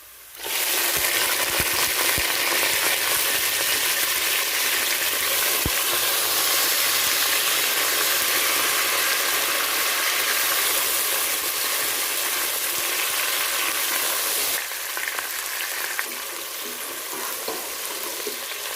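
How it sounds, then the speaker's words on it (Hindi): Chicken pieces sizzle hard in hot oil with browned onions for a chana mewa pulao, a loud, steady frying hiss that runs without pause and eases slightly near the end, with no talking. "अब हम इसमें चिकन को डालकर अच्छी तरह से भून लेंगे"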